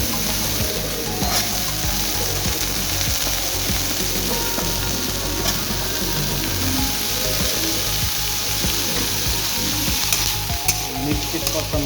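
Tomato frying and being stirred in a pan for noodles, a steady close sizzle with scraping stirs running throughout, no voices.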